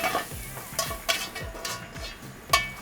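Shredded purple cabbage seasoned with Old Bay is stirred in a hot frying pan, about six rhythmic scraping strokes over a steady sizzle, close and clear with no talking.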